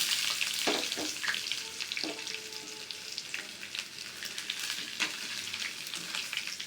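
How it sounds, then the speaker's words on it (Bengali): Dried chili flakes and chopped garlic fry in hot oil with a steady close sizzle, while several sharp stirring scrapes of a spoon against the pan cut through it. No one speaks. "দিয়ে মরিচগুলো একটু ভালোভাবে ভাজি নেব।"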